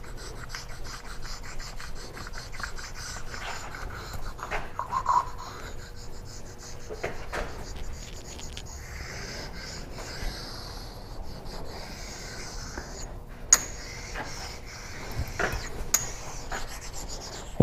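Burr being rubbed off the chuck of a surface grinder: steady soft scraping and rasping strokes with occasional sharp taps, close and fairly quiet, with no talk.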